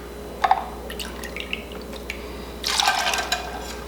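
Cranberry juice is poured into a cocktail drink, giving short liquid drips and splashes followed by a brief fuller pour, close and fairly quiet, with no one talking.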